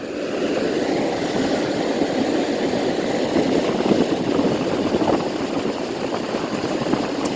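A filthy vintage Whirlpool 10,000 BTU window air conditioner runs loud and steady, its fan and compressor producing a continuous broadband roar and whoosh that holds evenly with no voices.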